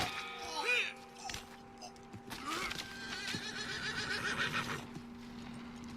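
A horse neighs loudly in Red Dead Redemption 2, a shrill whinny early on, followed by hoof clops and scattered game sound effects in a quiet outdoor scene.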